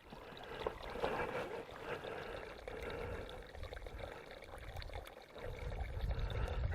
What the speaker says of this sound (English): you've got this natural creek that runs into this pipe